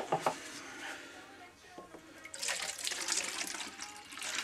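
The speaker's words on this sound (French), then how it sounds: "On va mettre de l'eau." Water pours into a container, a soft trickle that swells into a steadier, fuller splash in the second half, close by with faint background noise.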